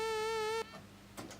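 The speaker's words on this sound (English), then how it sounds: "we have a saw wave," Sawtooth waveform from the FamiSynth 8-bit synthesizer plugin: a single steady buzzy tone rich in harmonics, held for about half a second and then cut off, with only faint room noise after.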